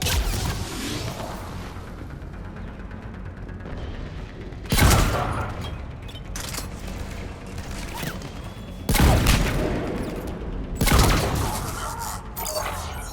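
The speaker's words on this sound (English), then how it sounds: "Commander, we're getting a lot of mortar fire." Heavy mortar blasts and gunfire in a Mass Effect 3 battle against Cerberus forces: a steady rumble of fusillade punctuated by three loud booming bursts spaced a few seconds apart.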